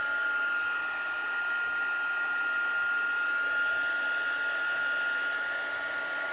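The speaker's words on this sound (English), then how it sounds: "we'll run the heat tool real quick. This is white embossing powder. Be a little bit noisy for a second." A heat tool blows a steady, continuous whir while melting white embossing powder, holding an even loud hum with no break.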